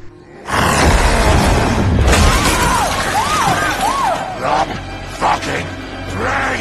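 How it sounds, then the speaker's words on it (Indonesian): A priest is thrown against a glass shelf, and a loud crash of shattering glass bursts out, followed by scattered tinkling debris and jumbled noise in a dramatic film scene. "mendorong pendeta Esquibel hingga terlempar menabrak rak kaca"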